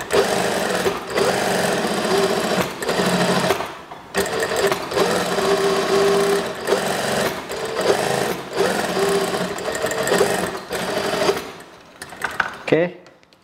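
A sewing machine stitches the seam of a long elastic-waist school skirt, running in steady loud rattling bursts with brief stops between runs, close up, and someone speaks near the end.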